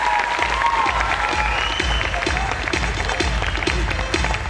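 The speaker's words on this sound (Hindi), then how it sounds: "ताली बजाना तो ढंग से बजा दो।" Audience applause at an indoor distributor training session, a steady dense wash of many hands clapping throughout, fairly loud and close, with little or no talk over it.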